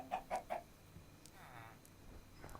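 A chicken in the Minecraft video game gives three quick, short clucks close up, followed by quieter game sounds.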